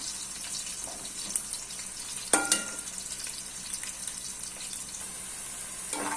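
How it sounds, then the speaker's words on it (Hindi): Soft, continuous sizzle of onions frying in a pan, with a few clinks and stirring noises near the middle and end, no voices. "इनको मैं लाइट ब्राउन तक होने तक फ्राई करूँगी।"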